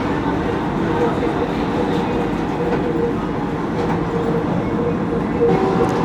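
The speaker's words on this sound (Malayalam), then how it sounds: "ഈ പോകുന്നത് കോയമ്പത്തൂർ മാംഗ്ലൂർ ഇൻ്റർസിറ്റിയാണ്" The Coimbatore–Mangalore Intercity train passes close by during a ride on the Vande Bharat Express near Feroke, a loud continuous rumble and rattle of wheels and carriages that holds steady throughout.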